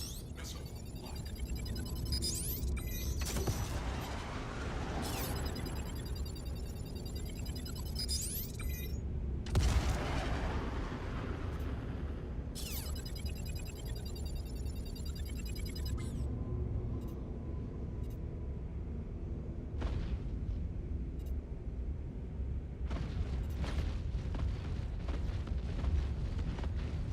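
Missile explosions in the space game Star Citizen during bounty combat, a series of deep booms and blasts with whooshing, shimmering swells between them, spread across a continuous rumbling background.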